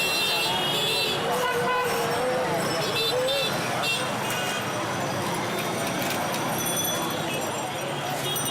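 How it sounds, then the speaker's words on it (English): Car horns toot in short bursts through congested Dhaka street traffic, set in a dense wash of engine and road noise, with voices present over the din. "Even if traffic is at a complete standstill, horns are always honking."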